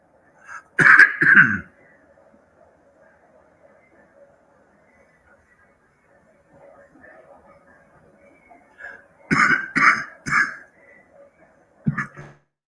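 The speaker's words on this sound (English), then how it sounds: "I'm trying to get better and not cough into the microphone" Several sharp coughs close to the microphone, a pair near the start and a cluster of three or four later, with quiet stretches between.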